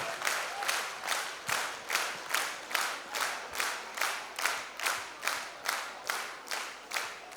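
Audience at a dance studio concert claps in a steady rhythmic beat, loud and even bursts repeating about twice a second throughout.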